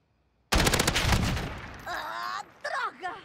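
Gunfire in Call of Duty: Modern Warfare with a RAM-7 rifle, a sudden loud burst of rapid shots that rings out, followed by someone talking in Portuguese.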